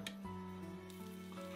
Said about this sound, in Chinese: 做好的圆球直接下锅，用手压成饼，盖上盖子，先把底部烙至金黄